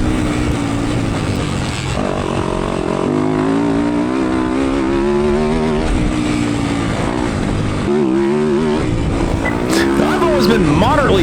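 Enduro motorcycles racing on a fast, flowy grass track at a sprint enduro event on a farm, a continuous loud engine drone with rising and falling revs under wind noise and a speaking voice.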